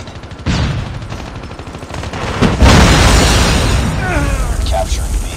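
Call of Duty Mobile match with dense gunfire and a heavy booming grenade blast that rumbles and decays over a few seconds, loud and close, with game voice callouts around it.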